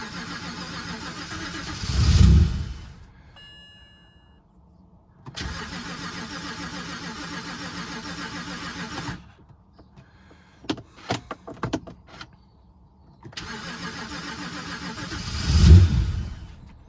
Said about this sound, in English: So it sort of fires up and then stops.